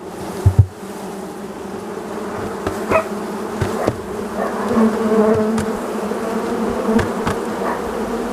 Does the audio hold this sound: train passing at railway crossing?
no